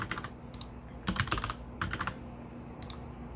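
Computer keyboard typing in short bursts of rapid key clicks separated by pauses, close and fairly quiet, with no talking.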